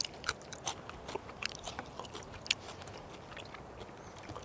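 Crunchy chewing of raw foraged wild radish, close and quiet, with repeated crisp bites and crackles scattered across a few seconds and no talking.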